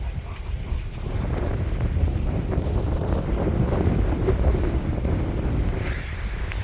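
Strong wind buffets the microphone outdoors in the Odesa region, a continuous loud low rumbling roar with gusty swells and no voices.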